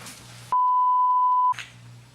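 A phone beeps with a single steady electronic tone lasting about one second, loud and clear, cutting through background noise from a Jenga tabletop game session.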